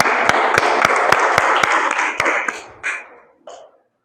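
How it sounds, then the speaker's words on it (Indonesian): A classroom audience of vocational school students claps after a group presentation, dense steady applause with a few sharp louder claps, tapering off over the last second with scattered final claps. "Ya, tepuk tangan."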